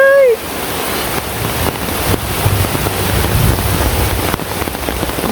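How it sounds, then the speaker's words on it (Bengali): Heavy storm rain pours down in a Bangladeshi village, a dense steady roar with gusty wind buffeting the microphone, constant and close for several seconds after a brief whistling tone at the start. "দেখেন দেখতে দেখতে ঝড় বৃষ্টি নেমে গেল।"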